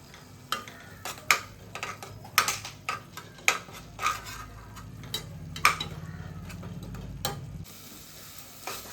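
Onions with turmeric sautéing in a pan while cooking dal rice: a soft steady sizzle under repeated clinks and scrapes of a spoon stirring against the metal, fairly close.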